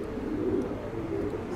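Pigeons coo softly in a low, continuous murmur at close range, with the soft calls rising and falling over a faint background and no talk.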